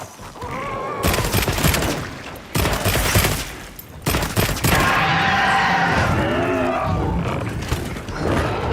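Gunfire in the video game Monster Hunter Wilds: bursts of loud, rapid shots with heavy impacts, broken by short pauses, then a roaring creature and rumbling action that continue under the shooting.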